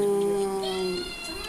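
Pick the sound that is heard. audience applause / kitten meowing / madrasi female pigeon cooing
kitten meowing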